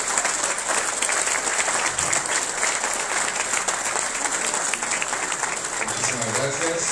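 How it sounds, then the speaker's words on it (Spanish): Loud, sustained applause from a large crowd at a founders' meeting, dense clapping throughout, with voices faintly audible beneath it. "fuertes aplausos para ellos"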